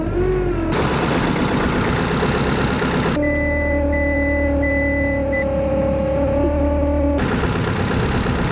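A car in extreme winter cold starts up and idles loudly nearby, the engine note shifting in pitch as it cranks, catches and settles, with a high whine over the rough idle.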